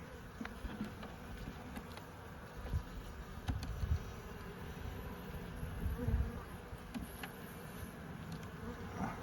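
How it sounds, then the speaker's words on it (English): A steady, low buzz of many honeybees on a frame of a Langstroth hive close by, continuous and fairly quiet, with occasional faint knocks and rustles. "Got some bees on it."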